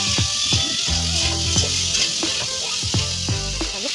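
A little water goes into a sizzling, spicy vegetarian vegetable curry, raising a loud, continuous hiss punctuated by repeated utensil clinks and scrapes against the pan.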